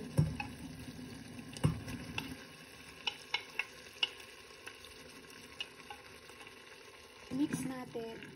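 Leftover food being stirred into freshly drained cooked pasta noodles in a pan, quiet scraping and clinking of a utensil in scattered taps with a faint sizzle underneath, close and soft.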